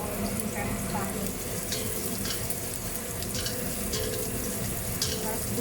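Onions sautéing in a pan for a salmon dish, a steady broadband sizzle mixed with watery hiss and faint stirring scrapes, continuous and close throughout.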